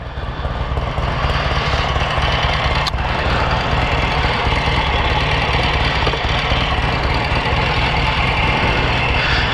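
A 1963 Royal Enfield Interceptor motorcycle engine idles steadily and loudly up close, a continuous rumbling throb with a rough mechanical clatter, holding even throughout with no speech.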